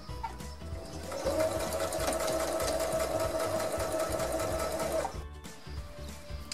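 A sewing machine stitches the hem of a fabric dress, a fast even mechanical whir running for about four seconds before stopping, with quiet handling sounds before and after.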